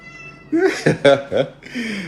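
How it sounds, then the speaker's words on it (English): A cat meows close up in a home, giving several rising, drawn-out calls in quick succession followed by a softer trailing meow. "That's Daddy's kitty. One of my daddy's kitties."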